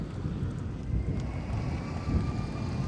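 Steady rain during a thunderstorm in Houston, Texas, a continuous hiss of falling water with low rumbling underneath that swells slightly in places, no voices.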